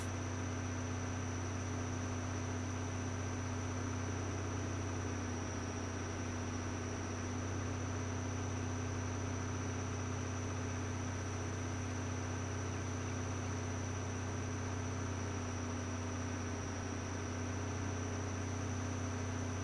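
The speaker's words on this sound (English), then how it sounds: "as you can hear, we're already in a tractor on the way to a job" Steady, droning tractor engine in a farming video game, a constant low hum with a faint hiss above, running evenly throughout with no talk over it.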